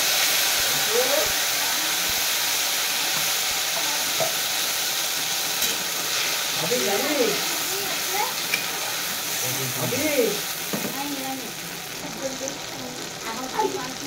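Ground spice paste of garam masala and dried red chilli fries in a pan with mixed vegetables, giving a steady loud sizzle and hiss with occasional stirring scrapes while someone speaks over it.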